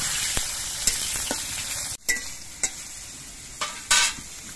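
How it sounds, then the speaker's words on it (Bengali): Raw green bananas fry in oil in a wok, a continuous close sizzle broken by several sharp scrapes and clacks of a spatula stirring, with no voices. "এবার কাঁচা কলাগুলো ভেজে নিচ্ছি।"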